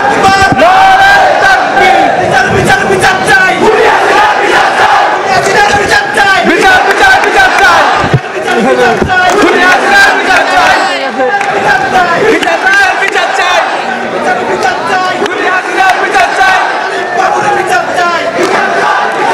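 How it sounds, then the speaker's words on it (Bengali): University students chant slogans in unison at a student union election results announcement, a loud, dense crowd roaring rhythmic calls continuously and close up, with a voice briefly cutting through. "আমরা একটু যেই স্লোগান, সেই স্লোগানটা শুনতে চাই।"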